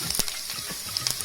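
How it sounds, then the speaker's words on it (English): Sliced ginger sizzles in hot ghee after garlic has browned, a crackly frying hiss dotted with quick pops and light stirring taps. "So once the garlic is browned, I'm adding the ginger"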